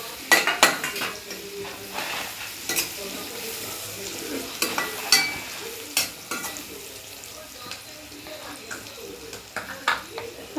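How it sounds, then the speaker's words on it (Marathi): Tomatoes fry in a pan for gavar bhaji, a steady low sizzle punctuated by repeated sharp scrapes and clinks of a utensil stirring against the metal pan. "आता आपण टोमॅटो टाकून घेऊया. टोमॅटो पण परतून घेणार आहोत."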